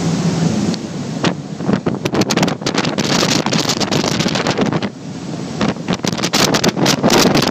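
Engines of a passenger boat run steadily, a loud continuous roar mixed with heavy wind buffeting on the microphone and rushing water, filling the whole stretch with no talk.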